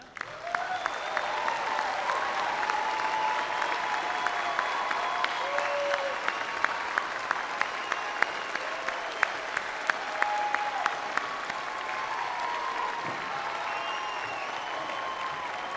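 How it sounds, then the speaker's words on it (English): Bachelor's degree candidates at a winter commencement ceremony receive sustained applause from a large crowd, with dense, even clapping and sharp individual claps standing out, continuous for the whole stretch at moderate loudness. "Give them a round of applause right now, why not?"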